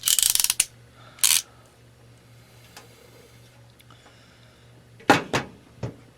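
A ratchet crimping tool pressing a modular telephone connector onto cable: close, sharp bursts of rapid ratcheting clicks, one long and several short, separated by quiet stretches with a faint low hum.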